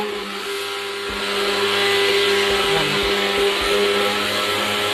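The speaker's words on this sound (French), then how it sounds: "Là, je vais mixer." Blender whirring steadily at high speed while mixing garantita batter made with chickpea flour, oil and salt, a loud continuous motor hum that swells slightly midway.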